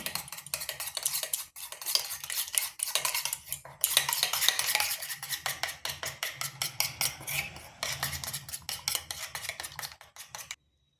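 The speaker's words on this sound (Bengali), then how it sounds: "এরপর ভালোভাবে ডিমটা ফেটিয়ে নিচ্ছি।" An egg with cornflour beaten in a bowl with a utensil: rapid, rhythmic clinking and scraping strokes, close and continuous, pausing briefly before resuming.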